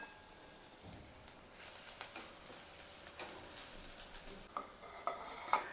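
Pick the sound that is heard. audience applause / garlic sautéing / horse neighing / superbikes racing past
garlic sautéing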